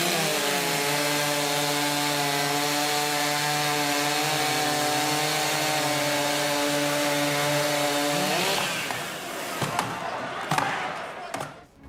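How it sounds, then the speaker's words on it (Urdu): Wood is cut with a chainsaw at the Timber Sports World Championship in Milan, Italy, where competitors also use axes and saws. A loud, steady engine whine runs for about eight seconds, then sharp chopping knocks follow. "شرکا نے کلہاڑی، آری اور دیگر آلات سے لکڑیاں کاٹی"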